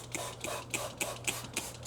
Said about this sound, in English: I'm going to spray this down with some alcohol to kind of clean it up